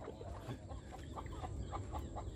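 Chickens on a rural farm in Dong Thap cluck softly in a steady scatter of short calls, fairly faint over a noisy outdoor background with no talking.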